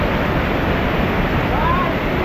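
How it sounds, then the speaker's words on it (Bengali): The small, wide Shuvolong waterfall in Rangamati pours with strong water pressure, a loud, constant roar of falling water mixed with heavy wind buffeting, steady throughout with no voices. "এই ঝর্ণায় অনেক পড়ছে, পানি পড়ছে, অনেক বেশি লম্বা না কিন্তু ওয়াইড, এবং পানির প্রেশারটা অনেক বেশি।"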